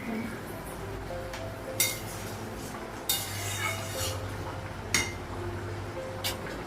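A lid going onto a pot of fish curry, with four sharp metallic clinks spread out over a low, constant kitchen hum.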